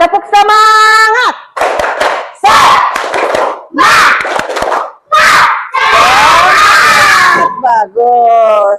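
Students in a classroom perform a motivational clapping chant, loud patterned bursts of claps and shouted call-and-response syllables in a repeating rhythm, close and energetic, with a leading voice between rounds.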